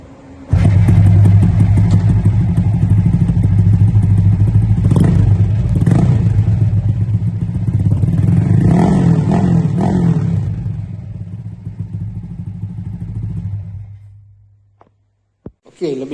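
Yamaha EX5 motorcycle with a 157cc engine revving at night in a workshop, a loud sustained engine roar with rising and falling revs that drops away near the end.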